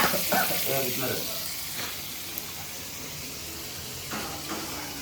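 Dried salted fish fries in a pan with a steady hiss and sizzle, joined by a few clattering stirs early on and again near the end.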